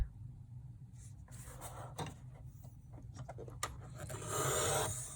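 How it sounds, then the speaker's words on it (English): A cutter scores through gray board, a series of close, quiet scraping and rasping strokes with a few knocks of the board being handled, ending in a longer scratchy cut. "Cut it. And it doesn't cut all the way through, so I flip it over and then cut up the other way."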